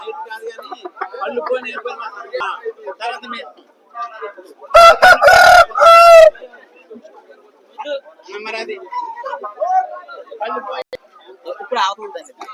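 A rooster crows loudly twice in quick succession, close by, at a Vijayawada rooster market, between stretches of someone talking.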